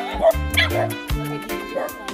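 A dog at a rural mountain home lets out a quick run of close yips and barks mixed with whimpers, with people's voices faintly in the background.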